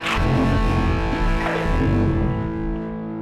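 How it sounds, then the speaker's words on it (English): A sustained, heavily processed musical tone washed in spring reverb and tape echo delay, the tail smearing out and fading toward the end. "I can turn up the reverb and delay whenever I want."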